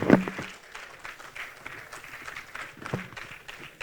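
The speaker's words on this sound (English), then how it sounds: "I believe we can keep clapping." An audience applauds after a keynote speech at a Nigerian event, a steady wash of clapping from a large crowd with a couple of louder bursts.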